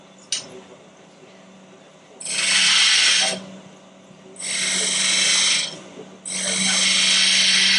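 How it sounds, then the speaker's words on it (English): A 9/16 spindle gouge cuts wood on a lathe in three loud, hissing bursts of a few seconds each. A low motor hum runs beneath them, and a faint click comes before the first. "This is a spindle gouge, 9/16 spindle gouge."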